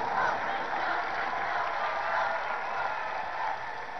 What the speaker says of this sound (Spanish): Fuerte el aplauso para Cristo.